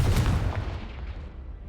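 A Confringo blast spell goes off in the Hogwarts Legacy video game, a heavy low booming burst at the start that rumbles and fades away over about a second and a half.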